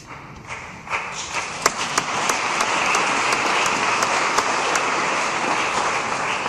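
Audience applause rises during a speech by Gabriele Krone-Schmalz, starting with scattered individual claps and building into a steady, dense wash of clapping from a large crowd.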